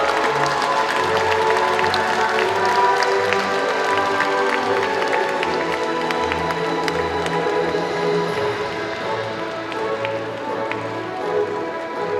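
Broad, steady applause from a large audience at the opening ceremony of a provincial sports festival for athletes with disabilities in Gangwon, a dense continuous wash of clapping with scattered sharper claps holding for about twelve seconds.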